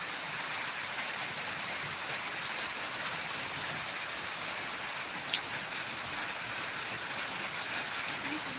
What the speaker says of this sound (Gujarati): વરસાદ છે જો